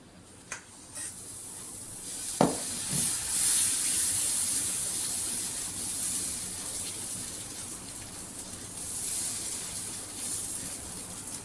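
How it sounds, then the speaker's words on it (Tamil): Carrot dosa batter hitting a hot pan, a soft steady hiss and sizzle rising after a light knock, continuous and close, with no talk. "இப்போ இதை தோசை ஊற்றிக்கலாம்"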